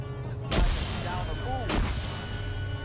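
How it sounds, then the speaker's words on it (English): Two sharp, booming blasts about a second apart ring out in an Arma 3 urban firefight, grenades and gunfire echoing loudly against a steady background rumble. "More grenades being thrown."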